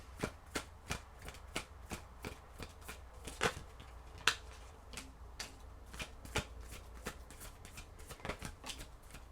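Tarot cards being shuffled by hand, a steady run of soft riffling snaps repeating about once or twice a second, close and quiet with no talking.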